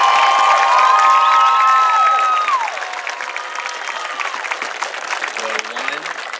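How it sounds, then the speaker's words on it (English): A graduation ceremony crowd applauds and cheers loudly, with whoops and shouts over dense clapping that fades gradually toward the end. "Let's have a round of applause for Rhoda"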